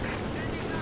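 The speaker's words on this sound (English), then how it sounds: "Panzerwerfer's firing." Panzerwerfer rocket artillery fires in the video game Company of Heroes 2, a dense, roaring wash of blasts and rumble filling the short moment, loud and continuous, with a commentator talking over it.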